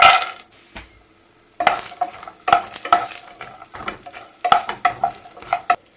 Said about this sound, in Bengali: এবার তেল দিয়ে দিচ্ছি আচ্ছা দেখতেই পাচ্ছেন ধোঁয়া উঠে গেছে এরপরে বড়িগুলো দিয়ে দিচ্ছি